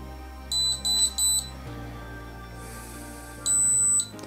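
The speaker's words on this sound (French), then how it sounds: "Il va flasher en vert et il va faire un bip" Several short electronic beeps from an Acetech Brighter C airsoft tracer unit, three quick tones in a row, then a longer, louder beep after a pause, over a low steady hum.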